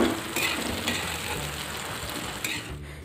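Soybean chunks frying in hot oil with turmeric in a pan, giving a steady close sizzle with a few brief scraping clicks. No one speaks.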